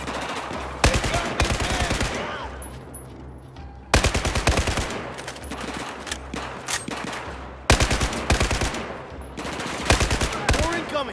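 Bursts of automatic gunfire in a firefight aimed at windows across the way, loud rapid volleys in three main stretches with scattered single shots between, close and dense throughout.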